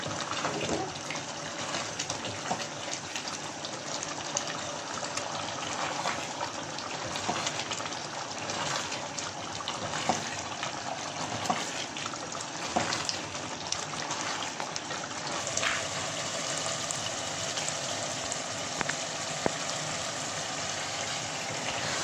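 Chicken achar gosht frying in ghee in a pan on a stovetop over raised heat, giving a steady, dense sizzle that stays even throughout with no talking.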